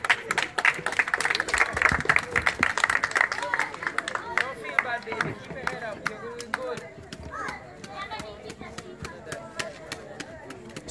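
Children clap during a classroom spelling bee, a scattered run of sharp hand claps mixed with kids' chatter and talking voices, strongest in the first few seconds and then thinning out.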